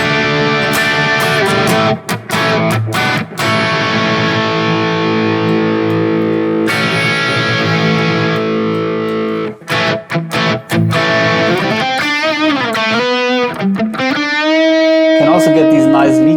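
A distorted electric guitar, a Harley Benton Fusion 3 HH FR through a Marshall plexi amp model on a Valeton GP-200, plays chords and lead lines in a crunchy amp tone, with brief pauses and bending, sustained notes toward the end.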